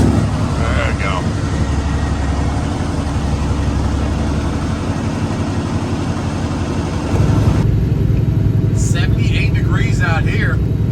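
Loud, steady engine rumble of a heavy vehicle on the move, with road noise throughout and a brief shift partway through.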